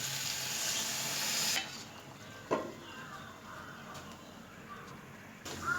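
A splash of water hits salted spices being sautéed in a pan, bursting into a loud hissing sizzle for about a second and a half before settling into a quieter simmer with a small clink.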